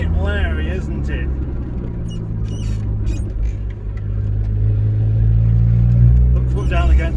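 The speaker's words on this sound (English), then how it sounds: "Put foot down again." A modified VW Polo on a test drive, its engine rumbling and rising under hard acceleration, heard from inside the cabin with a voice talking over the start and the end.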